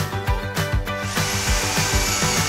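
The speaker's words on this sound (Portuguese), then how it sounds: "Coloca o milho na furadeira." Power drill whirring as it spins a corn cob, starting in short bursts with rhythmic thumps, then running steadily and loudly with a sustained high whine.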